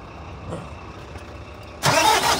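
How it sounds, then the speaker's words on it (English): A 2021 ADL Enviro 200 MMC bus with a Euro 6 Cummins ISB 4.5E engine fires up after a quiet stretch, its starter and sudden loud, close engine catch coming in near the end. "Under the bonnet, being very quiet, so we're going to fire it up while we're here."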